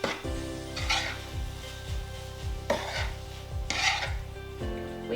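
A spoon stirs sweetcorn chevdo with ginger in a pan, making repeated rough scraping strokes against the metal over a faint background hum and a low, regular thumping beat, with no speech.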